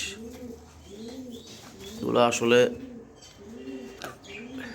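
Pigeons at a loft coo in soft rhythmic phrases, with a brief louder burst partway through and someone speaking over them.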